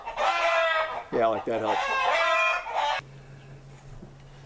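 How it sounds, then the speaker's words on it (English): Chickens cluck and squawk loudly in a backyard, giving a run of excited calls with a crow-like rise. Someone briefly speaks over them before a quieter hum takes over. "Excuse me, chickens in the background, they're just being stupid."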